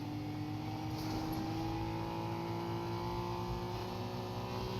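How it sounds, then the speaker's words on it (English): Car engine from a Nissan in the Fortnite video game, droning steadily with sustained tonal hum and a rough, Chevy-like note as if the transmission had failed, continuous and fairly close with no talking. "This Nissan started to sound like a Chevy. Like it just totally lost all of the transmission."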